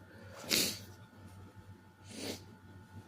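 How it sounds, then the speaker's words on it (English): Two short, breathy sniffles close up, about a second and a half apart, in an otherwise quiet room. "Excuse me for the sniffles."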